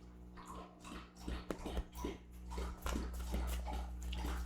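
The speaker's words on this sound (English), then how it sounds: "That's my dog drinking water." A dog laps water with repeated wet slurps and splashes, close and fairly quiet, over a steady low hum.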